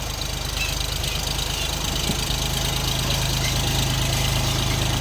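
The three-cylinder KM-385 diesel engine of an Orion 244 four-wheel-drive mini tractor idles steadily up close, a loud, continuous rhythmic knocking throb with no talk over it.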